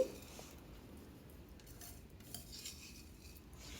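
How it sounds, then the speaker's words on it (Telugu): Moong dal and vermicelli stirred in a pan while frying for semiya payasam, a steady faint scraping and clinking of a utensil against the pan, with no voices over it. "పావు కప్పు పెసరపప్పు వేసి అలా మిక్స్ చేస్తూ ఉన్నామంటే పెసరపప్పు కూడా చక్కగా ఫ్రై అవుతుంది"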